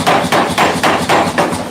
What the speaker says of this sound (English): because I'll use a hand hammer